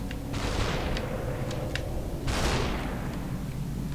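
Enemy gunfire in the video game Superhot, heard as two bursts of sharp shots against a steady background hum, each burst lasting about a second and fairly loud.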